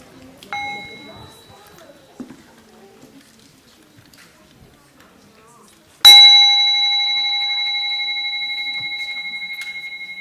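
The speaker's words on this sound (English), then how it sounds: "we're going to enjoy a full sound of the bell" A single deep bell strike rings out loud and clear, then sustains with a long, slowly fading resonant tone after a quieter earlier chime.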